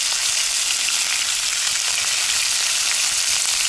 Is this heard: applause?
no